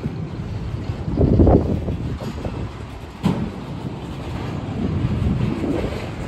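Heavy rumbling of a mixed manifest freight train with empty rack cars rolling past, steady and loud, with rattling cars and gusts of wind buffeting the microphone.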